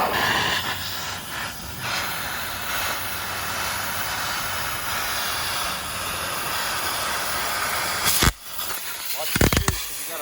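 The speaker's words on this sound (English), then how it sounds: "it's time to step it up to that 9-inch grinder and be done with all the noise" A 9-inch angle grinder cuts steel and throws sparks, making a sustained loud hissing, grinding roar. Near the end it stops abruptly, leaving brief gaps and short bursts of sound.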